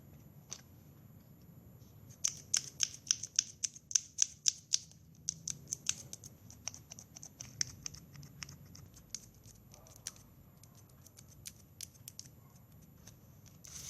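Scissors snip an 8 mm plastic drinking straw, threaded over wire, into fine strips for a paper-craft chrysanthemum: a quick run of crisp, close clicks for several seconds, then sparser snips, with no talking.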